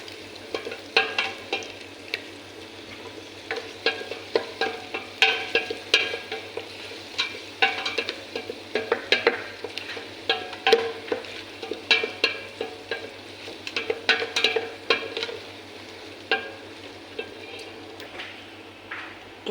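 White onion sautéing in a cooking pot with a steady sizzle, broken by repeated clinks and scrapes of a spoon stirring throughout, close and moderately loud, no talking.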